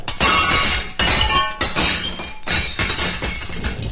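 Florentine mirror breaking in an animated Tintin scene, a loud series of glass shatters with crashing impacts and tinkling shards, several bursts in a row.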